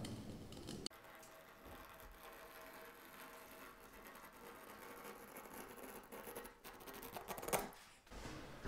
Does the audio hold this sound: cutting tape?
yes